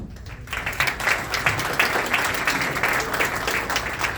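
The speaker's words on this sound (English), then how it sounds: "Let's hold our applause." Audience at a county coroner candidate forum breaks into applause, a dense sustained clatter of many hands that starts abruptly and holds steady at a fairly loud, even level.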